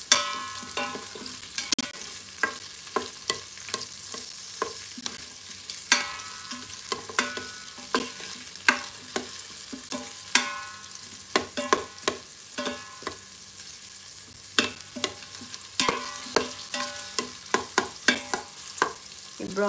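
Onion and garlic browning in a small amount of oil in a pan for native chicken tinola: a continuous close sizzle with frequent sharp scrapes and clinks of stirring, no voices.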